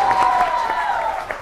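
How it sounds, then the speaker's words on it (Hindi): A studio audience at a Pakistani TV variety show claps for the guests, a busy patter of applause heard beneath a sustained musical tone and some background voices. "a huge round of applause."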